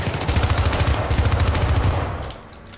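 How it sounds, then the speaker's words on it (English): Gunfire in the video game Syndicate: a rapid automatic burst of closely spaced shots rattling for about two seconds, loud and close, then trailing off into a fading echo. "Who is still shooting at me?"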